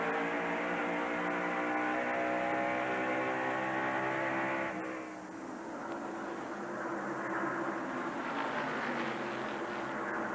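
A 1990 NASCAR Winston Cup stock car at full throttle, heard from inside the cockpit as it pulls alongside another car in the third turn: a loud, steady engine roar with rising harmonics that shifts and roughens midway as the car changes line.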